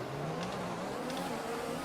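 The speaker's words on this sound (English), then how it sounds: "The lights come on, let's build up the revs." Formula 1 car engine in the F1 2021 video game, an Aston Martin revving on the grid at race start, a loud steady high whine that holds and rises slightly throughout.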